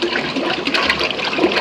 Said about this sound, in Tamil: எண்ணெய் ஊற்றுறோம்